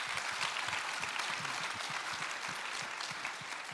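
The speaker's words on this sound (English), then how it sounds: "we can clap for that" An audience at a baseball storytelling event claps steadily, a dense, moderately distant wash of applause that holds evenly for a few seconds with no speech over it.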